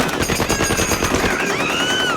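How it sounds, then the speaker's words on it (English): Machine-gun fire tears through a bar in an anime shootout, a rapid, continuous, loud rattle of shots with bright crackling debris throughout. "a hail of bullets rips through the bar, shattering nearly everything inside"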